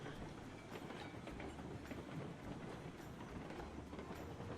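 A locomotive in a railway video game, climbing a grade at about 30 miles per hour, rumbles steadily with a rhythmic wheel clatter and a continuous low hum, close and even throughout, with no talking.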